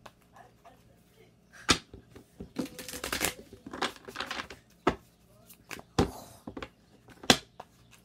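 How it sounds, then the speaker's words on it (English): Tarot cards being shuffled in a few quick riffling bursts, interspersed with sharp taps and clicks, close and moderately loud, with brief talking nearby. "Let's go ahead and do one more shuffle."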